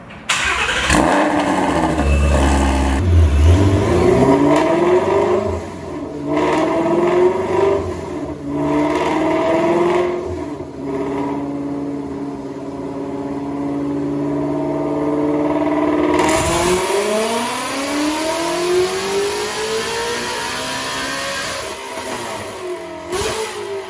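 Stage 4 Ford GT350 with an aftermarket intake manifold, revving hard during dyno tuning, loud and close, with the engine climbing and falling through repeated high revs and a long sustained pull.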